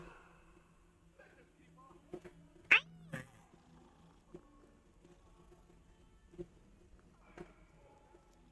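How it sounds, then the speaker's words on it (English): A cat in the video game Hogwarts Legacy gives a couple of short, faint meows in an otherwise quiet scene with sparse clicks. "Kitty!"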